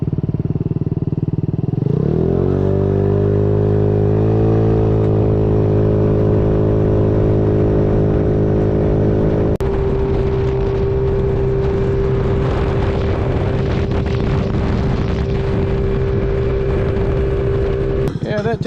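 A Maddog 150 scooter fitted with an 842 drive belt starts from idle and revs up into a steady, loud engine drone that holds and shifts pitch midway, heard up close.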